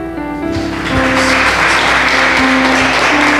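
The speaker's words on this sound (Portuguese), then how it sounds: "as suas palmas também glorificam o nome dele" A church congregation breaks into applause during a sermon, the clapping building up loud and steady over a sustained organ or keyboard chord that shifts pitch a few times.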